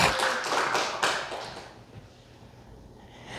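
A church congregation claps together in a quick burst of sharp, dense hand claps that lasts about a second and a half, then stops abruptly, leaving quiet room sound.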